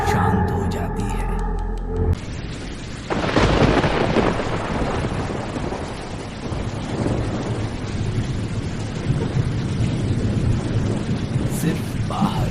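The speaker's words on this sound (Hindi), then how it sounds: "सिर्फ बाहर बारिश की आवाज सुनाई देती है" Heavy rain hisses steadily with a deep rumble of thunder rolling through, following a brief burst of music at the start.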